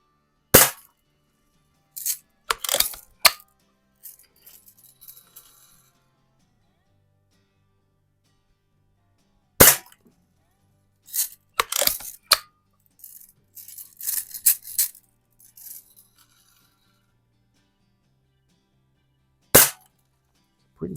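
A stock Crosman Hunter Hank BB gun fires at cans, sharp isolated cracks spaced several seconds apart, some followed by faint clatter and rattling, close and loud against quiet between shots.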